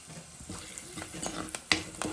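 Hot mustard seed tempering poured into a pot of curry, a soft sizzle with stirring scrapes and a few sharp pan clinks, faint and close.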